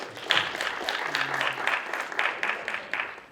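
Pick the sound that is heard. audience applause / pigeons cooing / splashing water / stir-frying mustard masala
audience applause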